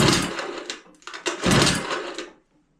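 A 1953 Evinrude Lightwin 3-horsepower outboard motor, being overhauled, is spun over by hand with its spark plugs out, making quick mechanical whirring bursts in a few uneven pulls before falling silent.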